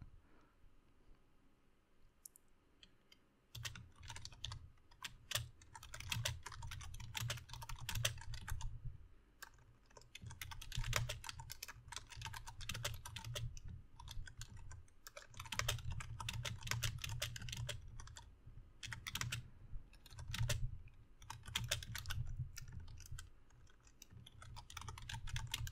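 Rapid typing on a computer keyboard, close and steady, with dense bursts of key clicks and brief pauses between runs; no talking.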